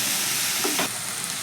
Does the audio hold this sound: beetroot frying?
yes